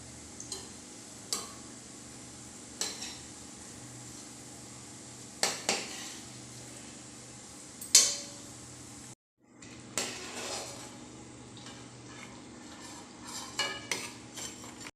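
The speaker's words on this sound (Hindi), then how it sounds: "दूसरे बैच के मुरुक्कू को भी हम लो टू मीडियम फ्लेम के ऊपर फ्राई करके रेडी करेंगे।" Murukku frying in oil over a low to medium flame, a steady soft bubbling hiss broken by occasional sharp clinks and scrapes of a utensil against the pan, with a brief pause midway.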